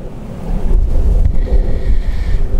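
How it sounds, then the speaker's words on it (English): Gusty wind blowing beside a canal, a loud low rumbling buffet against the microphone with uneven surges and no talking. "Wind's a bit of a pain,"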